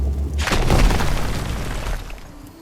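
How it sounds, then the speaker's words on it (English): Rocks blast apart in the RuneScape Dragonwilds game with a single deep, rumbling boom that swells quickly and fades over about two seconds. "let's explode some rocks"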